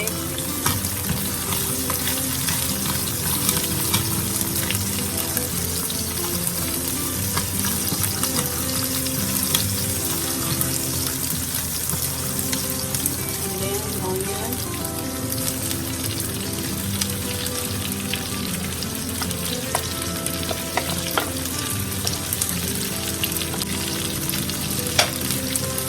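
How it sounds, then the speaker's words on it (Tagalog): Garlic fries in a pan with a loud, steady, dense sizzle that runs unbroken throughout, close and alone with no talking. "So, lagyan na natin yung garlic."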